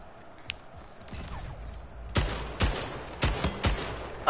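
Rapid bursts of gunfire in the arena shooter Splitgate, a faint early shot followed by several loud, close volleys in quick succession with mechanical clanks between them.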